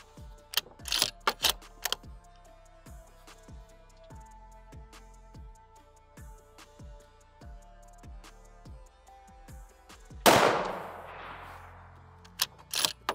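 Ruger Precision Rifle in 6.5mm Creedmoor fires two sharp, loud shots at a range, each cracking and then rolling off in a long echo tail, alongside the music that plays throughout with its steady, regular beats.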